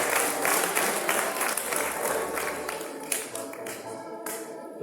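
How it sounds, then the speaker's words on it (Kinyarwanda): A church congregation applauding during a wedding ceremony, a dense wash of many hands clapping that is strong at first and then thins and fades toward the end. "Ngaho rero reka tubakomere amashyi"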